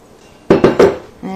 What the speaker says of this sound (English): Now we're going to spread the batter in our prepared pan.